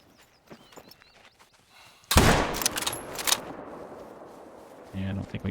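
A hunting rifle fires in theHunter: Call of the Wild: one loud, sharp shot with a booming tail, after quieter in-game sounds and someone talking softly.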